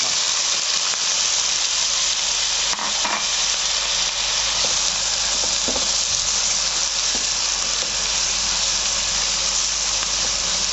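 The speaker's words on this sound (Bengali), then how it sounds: "দারচিনি এলাচ লবঙ্গ আর গোলমরিচ এবার আমি পেঁয়াজ কুচিটা দিয়ে" Chopped onion frying in oil with bay leaves, cinnamon, cardamom, cloves and peppercorns for a Bengali duck curry, a loud, continuous sizzle with occasional stirring scrapes.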